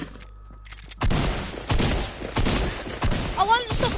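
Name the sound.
gunfire that won't stop, from the video game Fortnite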